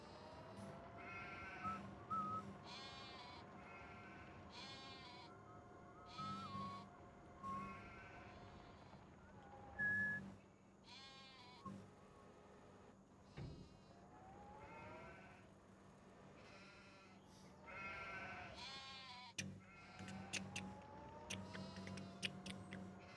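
Sheep in the video game Farming Simulator 25 bleat repeatedly, several animals calling over one another in uneven bursts against a faint steady hum.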